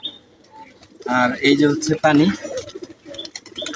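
Pigeons cooing near their bath water in a clear, rolling coo that someone talks over.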